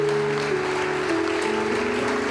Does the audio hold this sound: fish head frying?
no